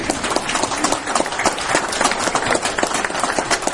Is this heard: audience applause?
yes